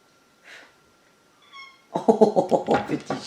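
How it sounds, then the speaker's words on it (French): A small cat mews briefly and softly at first, then lets out a louder run of rapid, rhythmic sounds close by, in a quiet indoor room. "Oh, petit chat."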